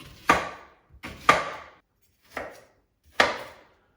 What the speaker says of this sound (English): So I cut the onion.